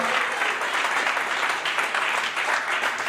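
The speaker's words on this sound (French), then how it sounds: "je voudrais vraiment dire merci par un applaudissement" A crowd at a touring community event in the Gôh-Djiboua district claps steadily in thanks, a dense, even wash of applause that holds throughout.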